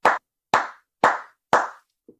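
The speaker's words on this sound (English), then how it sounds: "Mike is clapping." Mike claps his hands four times at an even pace, sharp close slaps about half a second apart, followed by a faint small tap, with no talking.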